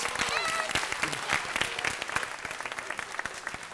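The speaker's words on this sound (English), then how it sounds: "Give him a round of applause." A crowd at a junior high school 50th anniversary event claps steadily for several seconds, dense applause with some scattered individual claps standing out, fairly close.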